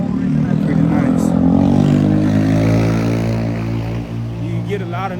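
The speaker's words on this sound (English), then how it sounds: "You get a lot of noise. They ride a lot of motorbikes here doing Grubhub, Uber Eats and stuff like that." Delivery riders' motorbikes on a Williamsburg, Brooklyn street give a loud, steady engine drone that swells and recedes nearby, with a voice faintly under the traffic.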